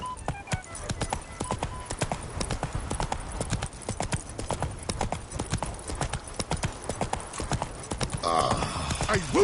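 Geralt's horse Roach trots in The Witcher 3, with close, regular hoof clip-clops on hard ground over quiet game ambience, and a brief voice near the end.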